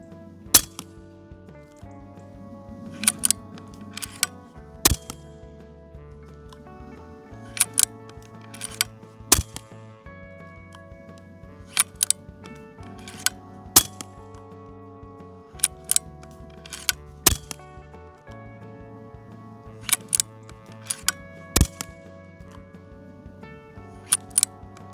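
An Epic Two Lite PCP airgun, filled to 250 bar with the regulator set to 170, fires a string of sharp shots, each a sudden crisp crack in twos or threes, spaced several seconds apart over faint background music.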